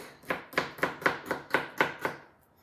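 Knife chopping garlic on a cutting board, eight crisp, evenly spaced knocks about a quarter second apart, close and clear with no talk.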